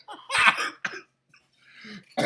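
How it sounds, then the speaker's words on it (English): Coughing from someone with COVID, two harsh bursts close to the mic followed by a short throat-clearing hack and another cough starting at the end. "Oh my God, this COVID cough."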